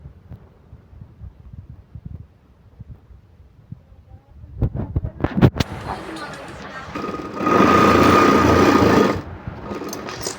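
Home sewing machine stitching a homemade nightie, quiet clicks and handling at first, then a few sharp taps and a loud steady whirring run of about two seconds near the end, with someone talking.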